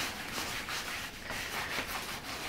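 Leather finish being rubbed by hand into a leather BBQ apron, giving a soft, continuous scrubbing and rubbing sound, quiet and close, with no voices.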